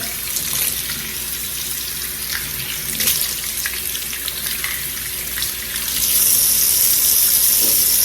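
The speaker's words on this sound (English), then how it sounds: "you're going to leave the water running" Water runs steadily from a faucet into a sink during handwashing, a continuous hissing splash that grows slightly louder and brighter near the end.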